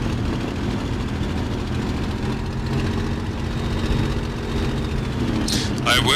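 A Bf 109G-6 fighter in Microsoft Flight Simulator roars through its takeoff run, a loud continuous engine drone with steady low rumble throughout, and a brief thin whine near the end.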